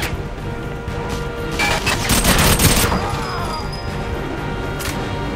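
Loud, dense gunfire from a gun in the GoldenEye 007 Wii video game roars steadily throughout, swelling into a heavier crashing burst midway.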